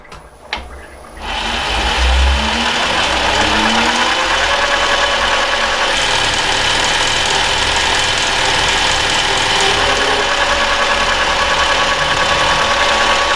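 An Emco V10-P metal lathe, newly fitted with a VFD and motor, taking a 1/4 mm cut: a steady, loud machine drone with a cutting whine that starts after a brief spin-up and holds evenly throughout.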